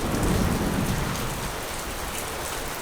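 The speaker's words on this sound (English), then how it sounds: "It's been raining for nearly 2 days non-stop." Heavy, steady rain pouring down through the night near the Ghats after nearly two days of non-stop downpour, a dense continuous hiss close by with a deeper rumble early on and no voices.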